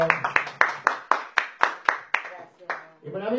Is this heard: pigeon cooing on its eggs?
no